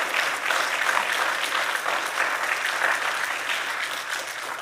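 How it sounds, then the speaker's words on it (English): Audience applause at an annual meeting: a sustained, dense clapping from a large crowd that carries evenly through the whole stretch. "I think we all owe you a applause."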